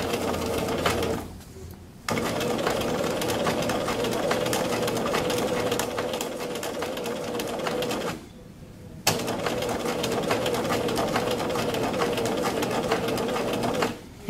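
A sewing machine runs steadily while stitching a sleeve placket, whirring loud and continuous in two long runs broken by short pauses near two and eight seconds, with faint talk at times.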